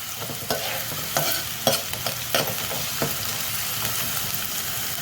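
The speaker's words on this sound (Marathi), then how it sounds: "त्याच्यामध्ये आता हा कांदा टाकूया. त्याला परतून घेऊया." Onion sautéing in oil in a pan for pav bhaji, a steady close sizzle broken by several sharp scraping stir strokes, with no voices.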